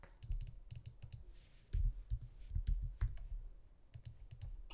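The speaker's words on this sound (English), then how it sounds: "so I'm just gonna type black" Someone types on a computer keyboard, tapping out short quick runs of keys with small pauses between them. The clicks are close but soft, and no one speaks.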